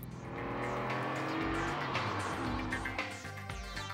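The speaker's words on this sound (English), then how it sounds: "The Diablo is a jet for the road, whose sound alone must have made Ferraristi pray." A loud Lamborghini Diablo engine roars and revs at high pitch, snarling through gear changes up close with continuous intensity.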